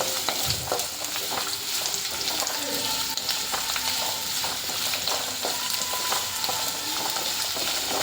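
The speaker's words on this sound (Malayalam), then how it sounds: "നമുക്ക് സവാള ഇട്ട് കൊടുക്കാം. ഒന്ന് ഇളക്കി കൊടുക്കാം നമുക്ക്." Sliced onions hiss and crackle in hot oil in a pan while being stirred for a vegetable curry. The sizzle is steady and close, with occasional scrapes from stirring and no talk.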